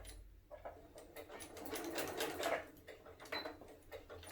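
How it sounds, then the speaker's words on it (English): Sewing machine stitching rag quilt blocks together, a close, steady whirring hum with rapid needle chatter that rises and falls over a few seconds, heard on its own without talk. "So I'm going to sew blocks 1 and 2 together."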